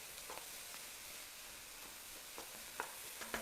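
Two colours of capsicum fry in a pan with a steady, quiet sizzle, punctuated by a few faint clicks and stirring taps, with no talking.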